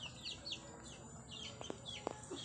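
Chickens cluck and call softly on a small farm with ducks, repeated short calls and chirps over faint background noise, fairly distant and quiet.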